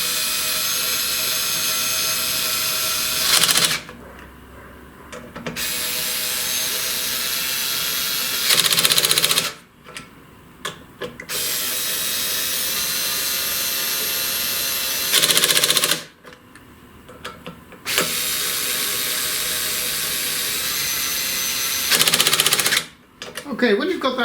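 Power screwdriver or drill tightening screws on a plate of a SainSMART Genmitsu PROVerXL 6050 Plus CNC router mechanical kit, in four loud sustained whirring bursts separated by short quiet gaps.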